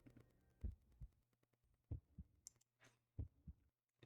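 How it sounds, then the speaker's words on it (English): Heartbeat sound effect in a video game, a series of deep, soft paired thumps repeating at an irregular, slow pace with a low hum underneath and a few faint higher chimes. "Oh, there's a heartbeat."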